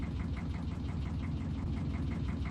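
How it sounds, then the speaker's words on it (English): The engine of a new fishing boat in the video game Fishing: Barents Sea runs with a low, steady, rhythmic throb and faint pulsing, quiet and continuous with no voices. "Oh, listen to that engine."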